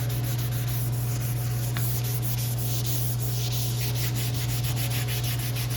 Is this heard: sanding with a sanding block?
yes